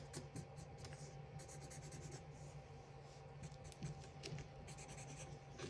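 A pen draws short lines on paper, making small sprigs of grass in a quick run of close, soft scratching strokes, heard alone at a steady level.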